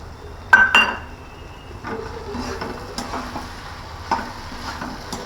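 Shallow-fried cauliflower, carrot, capsicum, peas and beans stirred in a pot, with several clinks of a spoon against metal and a soft sizzle beneath, loudest near the start.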